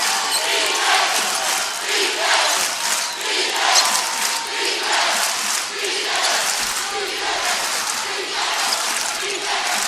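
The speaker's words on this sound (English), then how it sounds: "the crowd getting involved here at Knights Hall" A basketball crowd roars and cheers at Knights Hall during a Bellarmine–Findlay Midwest final game in 2017, loud rolling waves of noise with shouts rising and falling throughout.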